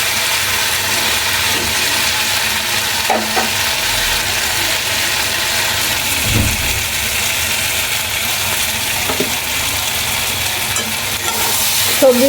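Vegetables fry in a pan for a vegetarian spinach dish, a steady close sizzle running throughout with occasional scraping and stirring clinks.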